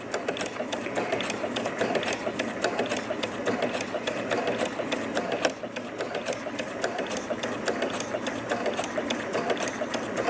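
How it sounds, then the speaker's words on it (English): A sewing machine stitches fabric for heart-shaped coasters in a steady, continuous mechanical whir with rapid needle ticking, held at an even level for about ten seconds with no pauses or talk. "lift the foot and pivot your fabric, and then start sewing again."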